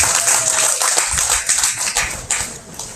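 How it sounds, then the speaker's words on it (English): Applause from a crowd at a youth goat show, a steady patter of many hands clapping close by, continuous for a few seconds with no talking over it. "Let's give both these young men a round of applause for doing their awful good job again."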